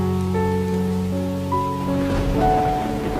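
Steady, loud rain falls continuously for the whole stretch, a dense hiss with tonal, music-like notes layered over it.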